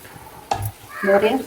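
Tender mutton being stirred in a pot for a Thalasseri mutton dum biryani: a short scrape and clatter of the spoon, then a soft wet sizzle and stir sound, close and moderately loud.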